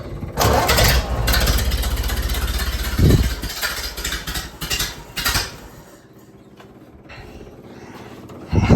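A 1929 Ford Model A Tudor sedan hot rod runs through a cheap side exhaust muffler, its engine starting up and then rumbling with loud, uneven revs before settling to a quieter idle, with a burst returning at the end.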